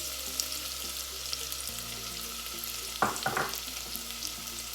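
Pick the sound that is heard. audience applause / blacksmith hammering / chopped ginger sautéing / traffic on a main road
chopped ginger sautéing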